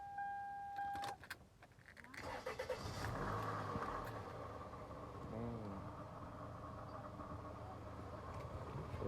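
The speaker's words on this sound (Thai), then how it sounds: "รถสตาร์ททีเดียวติดนะครับ" A 2002 Toyota Camry 2.4 engine cranks and catches on the first try after a faint electric whir, then settles into a steady, close idle with brief revs, with no talk over it.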